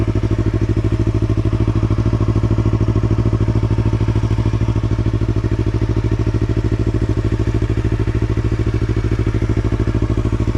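A Yamaha R3 motorcycle fitted with an Akrapovic slip-on exhaust idles steadily and close by, a loud, even, rapid thumping pulse that holds unchanged for about ten seconds with no talking.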